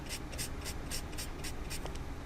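Watercolor brush markers are laid down on paper, giving a soft, quiet run of rhythmic scratchy strokes, about eight in quick succession, close to the mic.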